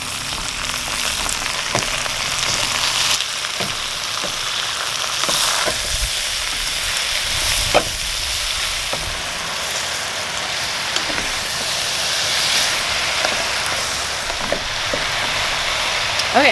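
Bitter melon leaves stir-frying with pork in a pan, a steady broad sizzle and crackle running throughout, with occasional sharp clinks of a utensil against the pan.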